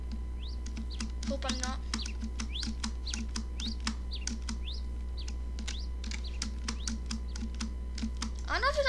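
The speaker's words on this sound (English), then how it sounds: "I don't know if you guys can hear the birds." Birds chirp again and again in quick, bright rising tweets throughout, moderately near. Constant computer keyboard typing clicks run underneath, and a voice speaks briefly.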